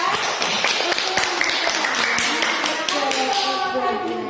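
Schoolchildren in a classroom clap their hands during a lesson on ablution, a quick burst of scattered, fairly close claps and taps mixed with children's voices.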